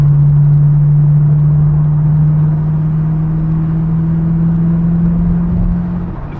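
Steady low engine drone from a TVR Chimaera cruising on the road, heard from inside, holding an even pitch that rises slightly before easing off at the very end.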